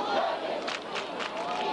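Crowd noise rises from the stands at a high school football game, New Trier against Glenbrook North, a steady broad roar with swelling cheers throughout the short stretch.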